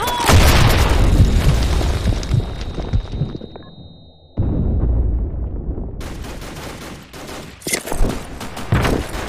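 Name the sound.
grenade explosion in a shooter video game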